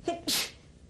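A single close sneeze: a short intake of breath followed by a sharp, hissing burst, then quiet.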